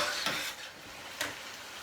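Chicken curry with potatoes and carrot, cooked in coconut, stirred in a pot: two short scraping strokes of a spoon against the pot over a soft sizzle, close and moderately quiet, with no talking.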